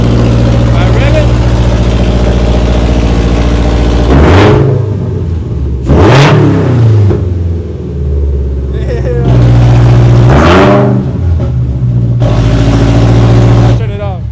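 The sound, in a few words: Toyota GR86 revving with catless headers, muffler loose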